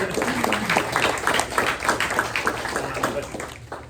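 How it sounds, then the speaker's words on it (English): Clapping from guests at a press luncheon, a modest round of applause of scattered hands beneath a voice talking over it, fading toward the end. "Let's give him a round of applause."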